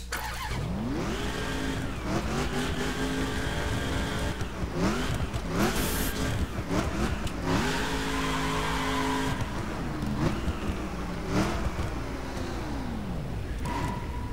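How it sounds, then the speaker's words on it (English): A 1969 Dodge Charger R/T Hemi engine in The Crew video game revs loudly and steadily, rising and falling in repeated surges of V8 throttle with occasional tire squeal, close and continuous throughout. "my favorite car in this game, the 1969 Dodge Charger RT Hemi"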